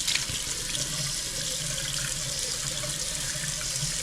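Tap water running steadily into a bathroom sink as someone wets their face before shaving, a continuous close hiss and splash with no voices.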